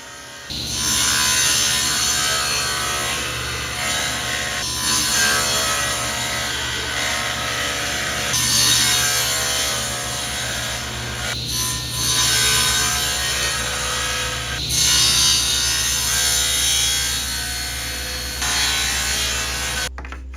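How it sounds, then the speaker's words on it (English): Saw making a series of shallow passes along the edge grain of scrap wood guided by a feather board, a continuous loud rasping cut with a steady underlying hum and brief changes in intensity between passes. "this time with a feather board to safely cut along the edge grain. I make a series of shallow passes on each side"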